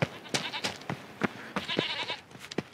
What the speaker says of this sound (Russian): Козы где-то пасутся.